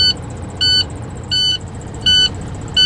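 Low air pressure warning alarm in a truck cab during an air brake test, a loud electronic beep repeating in short even pulses about every 0.7 seconds over a low idling engine hum.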